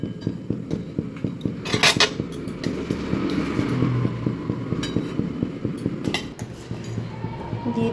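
Ghee-coated Gobindobhog rice goes into a pot of thickened milk, with a steady run of quick metallic clinks and scrapes of a spoon against the pot, close and busy throughout.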